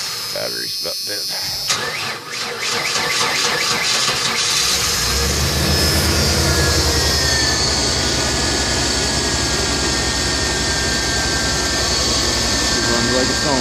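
A Ford E150 van's 4.9L inline-six, freshly swapped in and untuned, cranks and catches, then runs at a loud, steady idle with a constant rumble and whine, close by, with voices talking over it.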